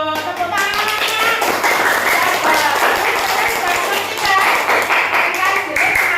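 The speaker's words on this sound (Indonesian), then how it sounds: "Tepuk tangan." A primary school class of children clapping their hands in a classroom, loud rapid clapping close by with some rhythmic patches, mixed with children's voices and chatter.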